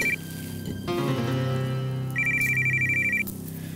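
A mobile phone ringtone plays loud and close, a repeating electronic melody with a rapid pulsing beeping phrase near the end, and no voices.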